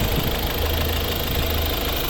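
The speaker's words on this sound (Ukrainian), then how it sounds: "Робота двигуна." A Volvo V50 D2 small diesel engine from 2012 idles steadily with a low, even rumble and a constant knocking clatter, loud and close, with no other sounds.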